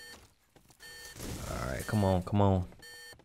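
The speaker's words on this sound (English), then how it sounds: "which will trigger the entire alarm system to go off" A repeating electronic alarm tone pulses in the 50 Cent Bulletproof video game, steady and high-pitched, while someone speaks briefly over it.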